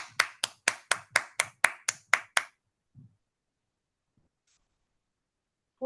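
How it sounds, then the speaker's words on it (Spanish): Audience applause after a talk: about ten sharp, evenly spaced claps, close and distinct, then stopping abruptly into near silence with a faint thump. "Un aplauso, siempre para nosotros un placer escucharlo."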